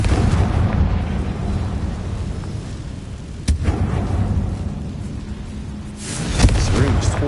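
A Confringo fire spell explodes in the video game Hogwarts Legacy, with loud sharp booming bursts cutting through a constant rumbling roar, the last blast the biggest.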